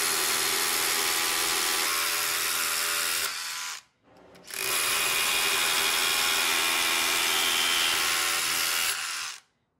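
A DeWalt DCH172B 20V Atomic rotary hammer with a five-eighths Trooper bit runs loud and close in two bursts of harsh, rattling hammering, split by a brief pause near the four-second mark.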